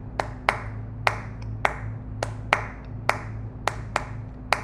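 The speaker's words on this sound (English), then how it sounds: "what I was clapping is it's a Cuban rhythmic pattern that is very" Hands clap a Cuban rhythmic pattern in 6/8, about a dozen sharp, close claps at an uneven, syncopated spacing over a low steady hum.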